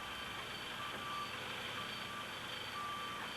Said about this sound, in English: There's another kind of dump truck.